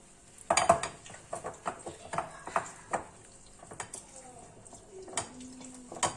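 Sauce strained through a metal chinois sieve over a pan while cooking veal tongue with olives, giving a run of close clinking and scraping of metal utensils against cookware, with light knocks and stirring, no talk.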